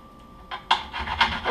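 A knife saws through a sushi roll in several short, close rasping strokes, with quiet pauses between them. No one speaks.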